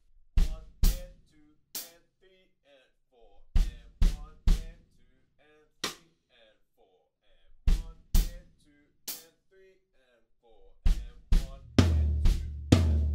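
Sparse drum beat for a song's verse, with kick and snare hits and hi-hat notes in a stripped-back pattern and gaps between, building to a busier crash-heavy finish, played alone.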